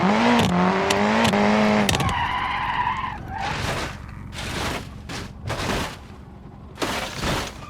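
A car in the BeamNG.drive driving game skids with screeching tires, then crashes with sharp impact bursts and crunching, followed by several more thuds and scraping as it tumbles, loud and close with no talk.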